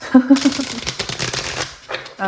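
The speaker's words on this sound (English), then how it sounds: "So let's begin by shuffling." A deck of tarot cards being shuffled by hand, a run of quick riffling and flapping bursts close up, with a voice talking briefly at the start.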